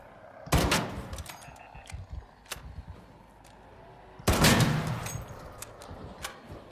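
Two loud gunshots from the Pharaoh, a starter weapon in a shooter video game, fired several seconds apart, each a sharp broadband crack followed by a short decaying tail, with faint game ambience between them and no talking.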